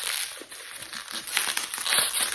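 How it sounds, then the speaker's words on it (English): Bubble wrap packaging crinkles and rustles as it is handled up close while a beard butter package is unboxed, with a steady, busy texture and no talking. "Oh, bubble wrap."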